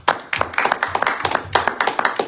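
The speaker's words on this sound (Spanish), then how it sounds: "Den un aplauso al Señor." A church congregation claps in steady rhythmic unison, a close, loud run of sharp beats repeating about every quarter second, with no voices over it.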